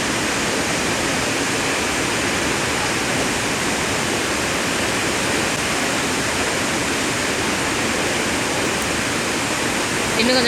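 Athirapally waterfall roaring at close range, a loud, unbroken wall of crashing water that fills the whole clip evenly from start to finish.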